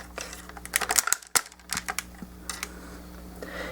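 Plastic landing gear on a Transformers Revenge of the Fallen Leader Class Jetfire toy folded back by hand, giving a quick run of sharp, close clicks and snaps followed by quieter handling.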